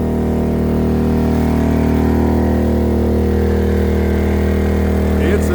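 A Predator 8,750 watt generator runs with a loud, steady engine drone and a constant hum throughout, unbroken and close by, with no voices.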